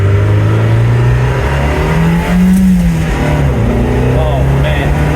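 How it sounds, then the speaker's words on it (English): A Renault Sport Spider roadster accelerating on the road, its engine note droning and rising loudly up close, with wind noise and a voice talking over it. "let's get a little acceleration going"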